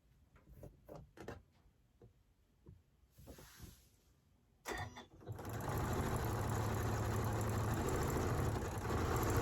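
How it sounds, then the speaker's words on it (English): Sewing machine stitching quilt block pieces for a flying geese block, a steady close whirring run that starts after several seconds of light handling clicks and rustles, then holds continuously to the end. "And then I am just going to start sewing"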